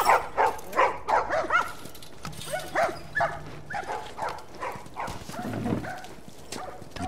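Dogs in The Last of Us video game bark in quick, repeated yips and whimper between them, several animals close and lively, with a brief low hum in the background.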